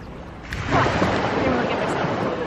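Seawater splashing at Jolly Beach, a broad wash of surf and water noise over wind that swells louder after a moment and stays steady and close.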